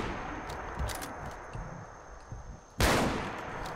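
Rifle gunshots in the Fallout 4 video game: a few faint, distant pops followed by one loud, sharp close shot with a ringing tail.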